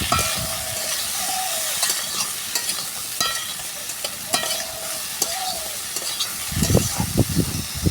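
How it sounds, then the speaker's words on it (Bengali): Eggplant slices frying in hot oil with turmeric and salt give a steady, close sizzle and crackle with occasional stirring scrapes, and a louder burst of spattering near the end. "অল্প করে হলুদ লবণ দিয়ে ভেজে নেব বেগুনগুলো।"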